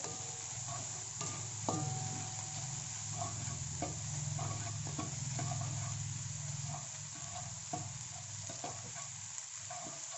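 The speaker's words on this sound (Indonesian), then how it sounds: "Nah, kita aduk." Close, steady sizzling of fried rice with salted fish cooking in a pan, with scraping and clinking as it is stirred at an uneven pace.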